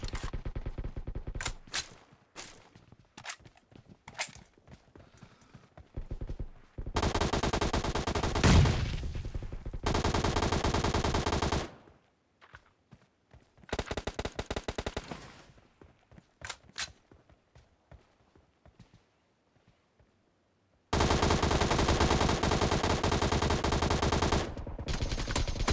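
Gunfire in a ranked video game match, with loud rapid bursts of automatic fire and single shots that come in clusters, broken by short quiet gaps. Several long, sustained volleys fill the stretch, and no one speaks.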